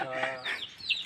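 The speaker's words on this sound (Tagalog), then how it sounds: "marami silang manok rito" Chickens on a hillside farm near Coron, Palawan give a short burst of clucking, a few close, quick calls laid over background chatter.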